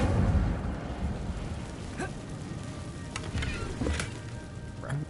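The Incendio fire spell in a wizarding video game crackles and sizzles in a steady rush of flame, with a few brief sharp pops and flares scattered through it.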